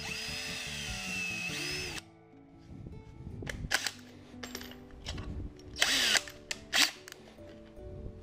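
A power drill bores holes in PVC: a steady high motor whine at first, then short bursts of drilling with clicks and handling knocks in between, close by and moderately loud.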